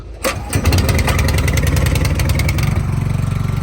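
A farm sprayer engine, on a rig used for fungicide spraying of wheat, cranks and catches, then settles into a loud, close, steady running drone.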